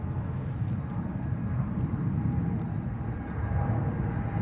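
A Qatar Airways airliner departing Schiphol Airport in Amsterdam, its distant jet engines making a steady low roar that holds evenly throughout with no talk over it.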